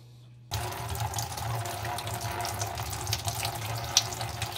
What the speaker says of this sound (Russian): Открываем кран аккуратно.